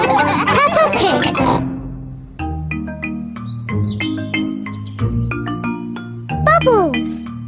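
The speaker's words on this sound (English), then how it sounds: "What noisy little piggies." Cartoon pigs from a children's animated series let out a string of squealing oinks over light background music, after a burst of children's noise at the start, with voices speaking in the scene.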